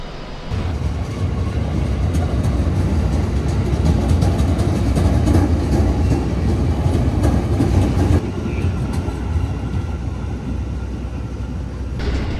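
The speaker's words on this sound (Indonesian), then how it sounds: "Di jalur 2, rangkaian stainless steel ini merupakan rangkaian Argo Bromo Anggrek." The stainless steel Argo Bromo Anggrek train rolls along track 2 at a station platform, a loud continuous rumble with rail clatter that eases slightly partway through.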